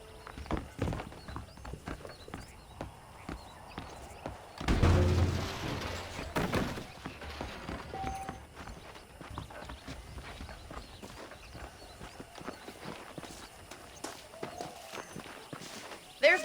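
In the western game Red Dead Redemption, a horse's hooves clip-clop at a steady walking rhythm under a voice. A loud rushing burst breaks in briefly partway through, and the hooves then carry on at a moderate distance.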